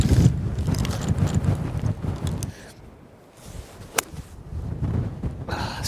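Wind gusts across a seaside links golf course among sand dunes, rumbling and buffeting the microphone in heavy low bursts that ease briefly midway before gathering again, with a sharp click near the end.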